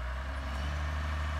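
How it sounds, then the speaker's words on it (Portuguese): A tractor moves with a low, steady engine drone and rumble, moderately loud and unbroken, with no voices. "Tá ali o trator se deslocando."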